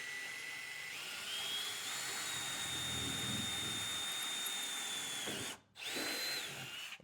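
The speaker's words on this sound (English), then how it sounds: "So I'm going to do that by drilling a hole." A power drill bores a hole through wood and a metal bracket on a vending machine pallet, a steady high-pitched whine close by that holds for several seconds, stops briefly, then starts again.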